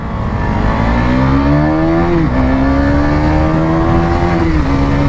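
A KTM Duke 250 and a Bajaj Dominar 250 roar loudly up close in a drag race, their engine notes climbing steadily in pitch, dropping briefly at a gear change and then rising again.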